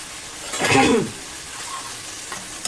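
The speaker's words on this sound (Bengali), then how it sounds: "এটাকে আবার একটু চারিদিকে মিশিয়ে দেব, যাতে সব মশলাটা ভাজা হয়ে যায়।" Onion spice paste fries and is stirred in a pan, with one brief louder scraping sizzle followed by a softer, steady frying hiss.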